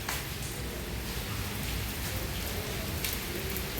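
Steady, dense rain pours at an outdoor film shooting location, a constant close hiss of drops on surfaces with no breaks and no voices.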